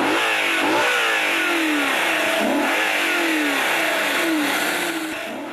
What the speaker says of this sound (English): but instead a naturally aspirated engine,